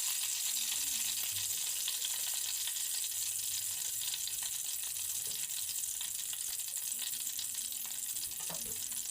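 Bay leaves and marathi moggu fry in hot oil for biryani with a steady, continuous sizzle that stays even and close throughout, with no other sounds over it.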